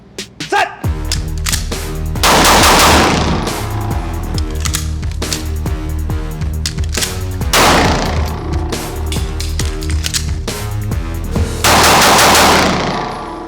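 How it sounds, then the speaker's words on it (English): Pistol fire from a Sig P320 cracks out in rapid, loud strings of closely spaced shots, with bursts of echoing blasts separated by brief gaps, close and dominant throughout. "Today we're going over how IDF operators shoot the gun"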